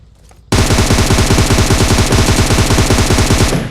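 Rapid automatic gunfire from a weapon in the video game Hunt, a loud sustained burst of closely spaced shots that runs steadily for about three seconds after a brief quiet start.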